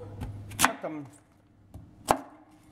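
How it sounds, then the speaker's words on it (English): A knife chops cauliflower into small pieces on a board for cauliflower fried rice, with a few sharp separate strikes spaced apart, close and clear, and no talking. "cut them small pieces, or you can use a knife to cut it like that"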